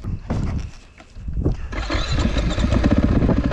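A 2014 KTM EXC 450 enduro motorcycle, freshly rebuilt with a new piston and 300 hours on it, runs close and loud, its rough single-cylinder idle briefly dipping before rising into a steady, throttled roar.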